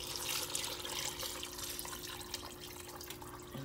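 Water pours steadily into a pot of beans simmering in a bit of stock, a continuous close splashing rush over a low kitchen hum.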